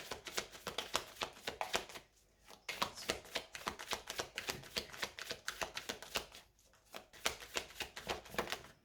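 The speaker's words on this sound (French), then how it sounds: "Allez, on commence le tirage." Tarot cards shuffled for a reading, a rapid run of crisp riffling bursts with two brief pauses between rounds, close and fairly quiet, with no voices.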